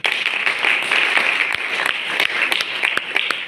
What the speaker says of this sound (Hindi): उनके नाम पे ताली चाहूँगा आप दोस्तों से।